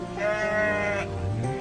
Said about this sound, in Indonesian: itu kambingnya ada yang lepas satu sih